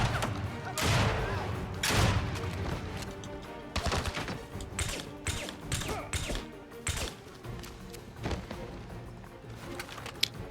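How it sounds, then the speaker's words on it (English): Light machine gun fire in the James Bond 007: Blood Stone video game, with several loud, sharp bursts of rapid shots and thuds spread over a stretch of quieter game noise. "Ooh, was that an LMG?"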